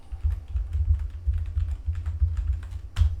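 Rapid keystrokes on a computer keyboard while a password is entered at a Windows Server 2019 machine, close and steady, ending with a sharper final key press, with no talk.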